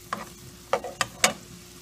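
Spaghetti cooking in a pan, heard as a few separate scraping stirs and light clatters spaced across a quiet background with no sizzle running between them.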